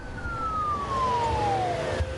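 An ambulance siren, called for after a man collapses with a seizure, sounds as a single steady tone sliding slowly downward, loud and close over a low rumble of background noise.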